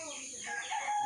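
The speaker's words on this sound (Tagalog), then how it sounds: "Meron din doong isang manok." Chicken at night on a rural farm in the provinces, clucking softly while the hens hide their chicks; a brief, close, low-level vocalization that rises slightly toward the end.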